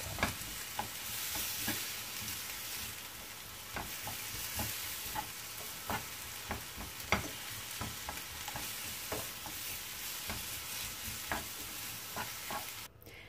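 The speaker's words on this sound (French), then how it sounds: "Et je vais faire revenir donc le tout ensemble jusqu'à ce que mes légumes deviennent un peu tendres." Vegetables with bell peppers and tuna sizzle in a pan, with repeated stirring scrapes at an even rhythm over a steady frying hiss, close and fairly quiet.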